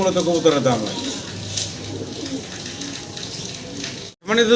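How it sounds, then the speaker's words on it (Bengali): Pigeons coo softly in a steady low murmur, a pair of big almond-coloured Giant Homers kept at a bird market or loft, with someone talking over them and brief bursts of background noise. "অ্যালমন্ড কালারের জোড়া জায়ান্ট হোমা আছে এখানে"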